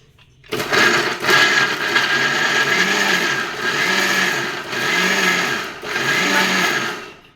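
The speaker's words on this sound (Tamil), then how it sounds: "எதுக்கு மிக்ஸி நம்ம அரைக்கும் போது கத்திக்கினே இருக்கேன்னு?" A kitchen mixer grinder grinding paste starts abruptly and whirs loudly in several bursts, its pitch dipping between pulses as it blends.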